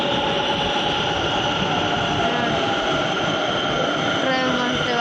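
A metro train heard from inside a carriage, a loud continuous rumble with steady tonal whine from motors and wheels filling the whole stretch.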